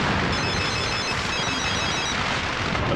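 A telephone rings in a tense scene from a fight-climax film. A bright, repeating bell tone sits over a loud, dense background din that continues unbroken for the whole stretch.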